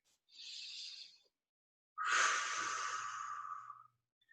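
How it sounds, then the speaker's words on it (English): Two slow, deep breaths during a yoga session for the shoulders and upper back, a short soft inhale followed by a longer, rushing exhale, close and breathy with no talking. "Take a couple more breaths, maybe one more inhale, one more exhale here."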